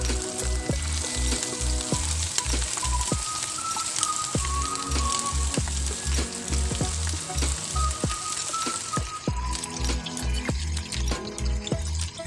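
Marinated chicken pieces for dragon chicken frying in hot oil, a dense, continuous close sizzle with crackling spatters throughout and no talk.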